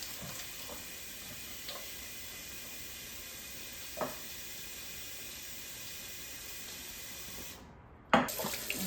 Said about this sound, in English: we are going to fill up this bucket with some soapy water